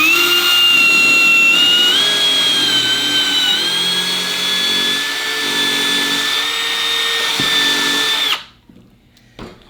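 A Festool power drill on an MB 40 drill stand whines loudly and steadily for about eight seconds as it drills into wood, its pitch dipping slightly under load, then abruptly winds down to quiet.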